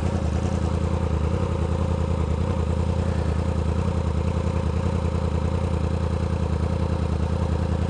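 A 2016 Yamaha R1 motorcycle idles nearby with a continuous, even clattering engine note, steady in loudness throughout and alone without speech.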